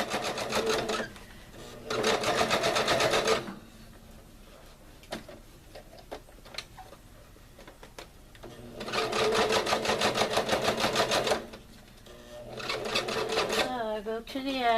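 A sewing machine stitches fabric, including a short backstitch at the edge, in several fast whirring, rattling bursts of a few seconds each, separated by quieter pauses with small clicks and handling sounds.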